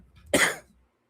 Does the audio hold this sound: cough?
yes